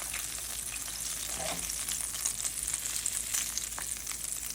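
Chicken pieces fry KFC-style in hot oil, giving a dense, continuous crackling sizzle that stays close and even throughout, with no speech.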